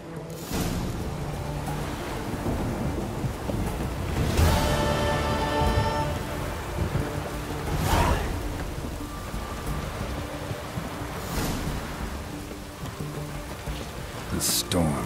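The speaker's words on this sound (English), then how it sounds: "The storm, damn it." In The Witcher 3: Hearts of Stone, steady rain pours throughout, with several rumbling thunder cracks rising over it at intervals; a voice murmurs briefly beneath the storm.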